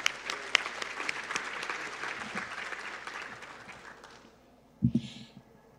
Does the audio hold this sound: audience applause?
yes